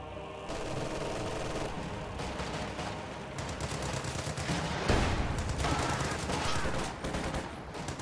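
Dense bursts of video-game gunfire and explosions crackle continuously in a military strategy battle, with a brief voice line mixed in.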